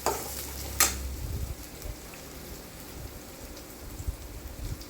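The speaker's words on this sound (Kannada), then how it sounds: "1 ಸ್ಪೂನ್ ಜಿಂಜರ್ ಗಾರ್ಲಿಕ್ ಹಾಕಿ ಫ್ರೈ ಮಾಡ್ತಿದ್ದೀನಿ. ಹಾಗೆಯೇ 2 ಹೆಚ್ಚಿದ ಹಸಿಮೆಣಸಿನಕಾಯಿ ಮತ್ತು 2 ಈರುಳ್ಳಿ ಹಾಕಿ ಫ್ರೈ ಮಾಡ್ತಿದ್ದೀನಿ." Ginger-garlic paste, chopped green chilies and onions fried in a kadhai for paneer, a close crackling sizzle with a sharp scrape early on, then a lighter steady frying hiss.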